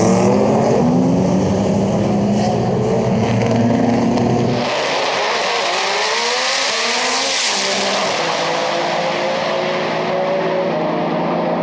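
A 1500-horsepower R34 Nissan Skyline GT-R with a 2.6-litre RB26 drag engine roars close by at a Texas roll race, then launches and screams away at high revs, its pitch sweeping upward as it recedes.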